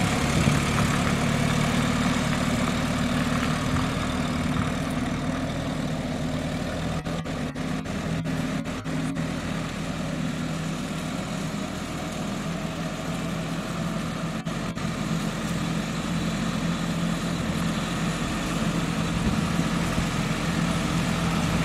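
A 1946 Willys CJ2A Jeep engine runs in gear outdoors, giving a steady, loud, rumbling drone that holds constant throughout with no talking.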